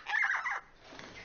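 A bird calls in a film scene, giving a short series of loud, gobbling, clucking notes like a fowl, then trailing into quieter background noise.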